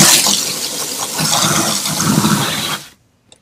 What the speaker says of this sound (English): Now let's hit it with a hose, just a hose, and see what it does.